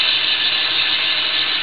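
A Hardinge HLV lathe carriage on a digital threading retrofit makes a rapid retract: a steady, close mechanical whir with a fine ratcheting texture that runs evenly for under two seconds, with no voices.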